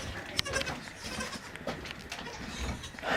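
A baby goat on a snowy farm gives faint, brief bleats amid rustling and general outdoor noise.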